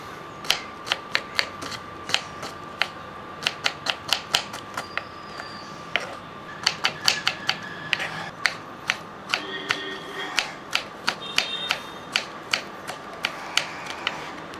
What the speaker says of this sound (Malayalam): ഒന്ന് കൊത്തി അരിഞ്ഞെടുക്കണം